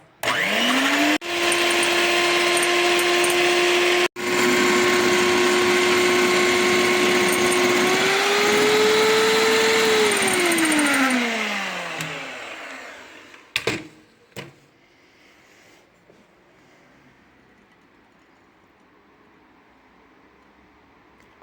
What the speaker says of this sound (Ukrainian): холодні білки зі солью я збиваю